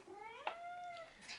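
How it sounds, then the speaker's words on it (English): A pet cat meows twice, a long rising-and-falling call followed by a shorter one, fairly close and clear against a quiet indoor background. "I'm sorry for my kitty cat meowing in the background"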